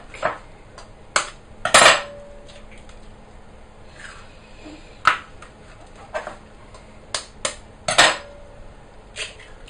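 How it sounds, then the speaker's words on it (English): Eggs cracked against a hard edge for a Yule cake batter, several sharp clacks and taps spaced irregularly, with a few louder knocks and small wet sounds between them, close up in a quiet kitchen. "here's my egg cracking technique"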